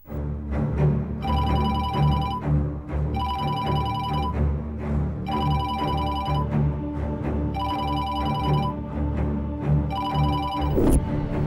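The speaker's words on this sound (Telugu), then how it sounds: "అంజలి నరకానికి దారి తీసే ఫోన్ కాలది." A telephone rings in five evenly spaced bursts, each a bright electronic trill, over a steady low background hum with no talking.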